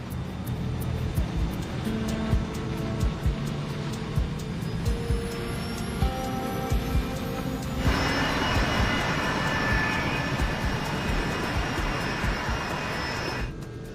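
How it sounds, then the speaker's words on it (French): A Kenya Airways Boeing 737 jet taxis toward runway 12 with a steady, loud engine roar. A brighter, harsher engine tone swells in partway through and holds to the end. "L'équipage effectue le roulage jusqu'à la piste"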